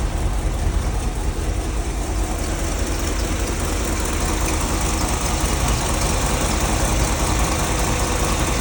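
A 1969 Chevy C20 truck engine runs steadily just after starting, loud and close, with a constant rumbling idle and no voices.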